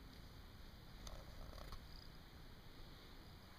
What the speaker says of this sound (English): That's one fine kitty right there.